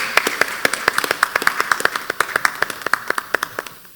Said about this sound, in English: Please, let's give her a round of applause as she comes up.